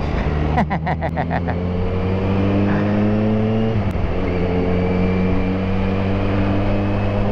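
A motorcycle rides along the C5 road in the Philippines. Its steady engine drone is close and continuous, with a brief shift in tone partway through.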